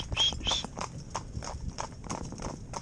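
Hooves of a Gypsy Cob pair driven in tandem clip-clop in a steady trotting rhythm on firm ground, close by, with a couple of faint high squeaks early on.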